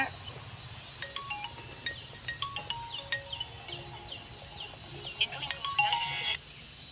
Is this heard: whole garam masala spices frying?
no